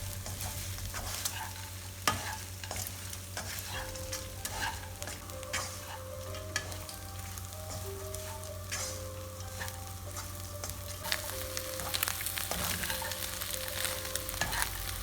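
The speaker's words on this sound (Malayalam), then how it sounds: "പപ്പടം ചേർത്തതിന് ശേഷം ഒരു 2 മിനിറ്റോളം നല്ലോണം ഒന്ന് മിക്സ് ചെയ്യാം" Fried pappadam and egg are stirred in a sizzling pan, with a spoon scraping and clinking in an irregular rhythm over a constant soft frying hiss, close by and with no voices.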